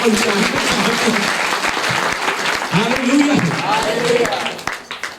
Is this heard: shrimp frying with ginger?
no